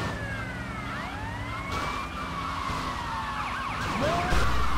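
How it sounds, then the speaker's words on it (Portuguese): Several police sirens in a video game, GTA Vice City, wail and overlap, rising and falling steadily over a constant engine hum, loud and close with no talking. "só tem carro de polícia na rua"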